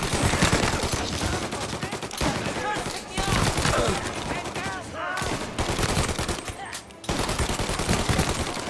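Dense automatic gunfire from Mafia Definitive Edition, loud and sustained in rapid overlapping bursts with brief gaps, a voice talking over the shooting.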